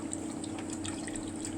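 Tamarind water, dissolved and strained, is poured into a pan while cooking, a soft, steady liquid stream running continuously and faintly under a low kitchen hum.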